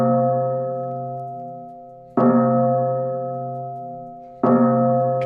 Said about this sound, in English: Anytime someone sends in a Super Chat, we're ringing the bell, baby.